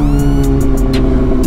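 A 2025 Kawasaki Z900 motorcycle engine runs loud and close, a rich harmonic drone with a slight rise in pitch and a series of short clicks or ticks repeating over it.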